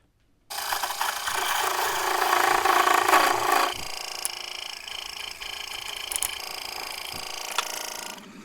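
Wood lathe turning a tall spruce goblet with a 1-inch asymmetric round nose tool, giving a steady, loud broadband cutting hiss that swells and then settles into a thinner, sustained whine.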